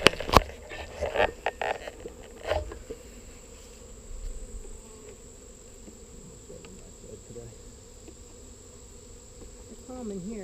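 Bees hum in a beehive being inspected, a faint continuous buzzing drone under sharp clicks and handling knocks of the hive boxes, recorded up close.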